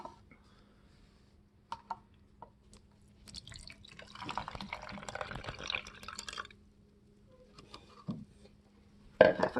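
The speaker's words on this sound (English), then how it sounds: "Half a cup of water." Half a cup of water is poured into a container, a faint liquid trickle and splash building in the middle, framed by small clinks and taps in a quiet room.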